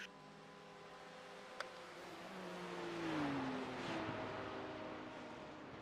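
A GT3 race car engine in the iRacing sim at the Nürburgring 24H, a steady, dull drone with a sliding pitch as it accelerates and shifts, moderately loud throughout with one brief click, and no talk.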